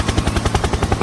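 Helicopter sound effect in a Sky: Children of the Light meme, a fast loud rhythmic chopping of rotor blades, close and continuous over about a second.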